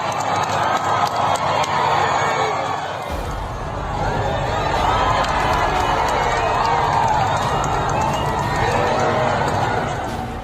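A crowd gathers around the president's car, a dense wash of many voices shouting and cheering with footsteps and bustle, loud and continuous, swelling with a deeper rumble after the first few seconds.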